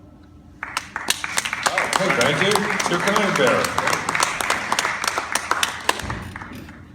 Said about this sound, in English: give a round of applause again to the late, great Angus Scrimm